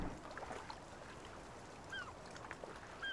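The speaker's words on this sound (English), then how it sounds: "Hear the birds singing," Birdsong in the Farming Simulator 19 Tyrolean Alps map, a few short chirps and whistles scattered over a quiet outdoor ambience near the water, faint and somewhat distant.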